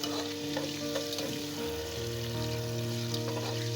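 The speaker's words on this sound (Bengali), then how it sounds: "এরপর ডিম কয়টা দিয়ে মুই ডিম কয়টা ভাজি" Eggs fry in oil with turmeric powder in a home kitchen, a steady loud sizzle with occasional stirring scrapes and a constant background hum, no voices.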